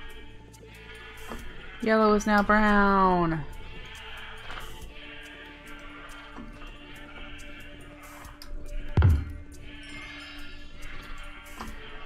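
A sheep in modded Minecraft 1.12.2 gives one clear, loud, wavering bleat, and a shorter bleat follows later, while a person keeps talking.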